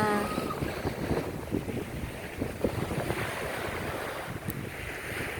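Sea waves roll onto Bang Saen beach in Chonburi, Thailand, with steady surf wash and gusting wind buffeting the microphone, continuous and fairly close, with no talking.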